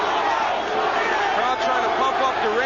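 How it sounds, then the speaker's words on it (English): A dense, loud arena crowd roars and shouts continuously at the 1989 Iran Barkley vs Roberto Duran boxing match, urging on the 37-year-old Duran, with voices rising and swelling throughout. "Crowd trying to pump up Duran."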